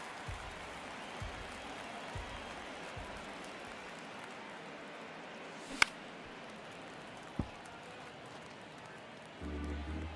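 Steady crowd murmur and cheering fill a baseball stadium in MLB The Show 23, a dense wash of noise throughout with a couple of sharp bat or glove cracks, and a low hum entering at the end.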